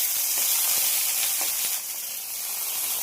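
Gourd leaves laid into hot oil in a wok give a steady, bright sizzle with faint crackles, close and fairly loud, holding evenly throughout with no talking.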